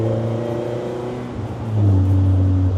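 An Ariel Nomad's naturally aspirated engine holds high revs in a low gear with a steady droning whine, dips briefly, then climbs louder and higher, close and continuous.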